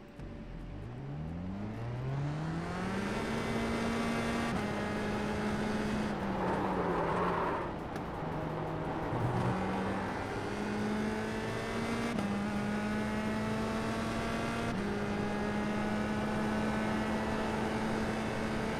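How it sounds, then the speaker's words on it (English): Race car engine in a sim racing game, revving through gears with rising and falling pitch, the tone dipping sharply under hard braking and a lock-up before climbing again, loud and continuous. "We locked up a little bit, but look at how naturally the car stops"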